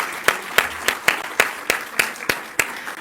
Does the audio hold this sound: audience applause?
yes